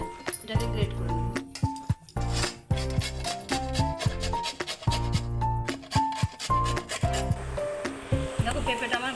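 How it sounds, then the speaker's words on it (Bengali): Peeled green papaya is rubbed against a metal grater in quick, rhythmic scraping strokes. The strokes are broken by brief pauses and occasional clinks, loud and close. "আমি এবার গ্রেটার করে এটাকে গ্রেট করে নেব।"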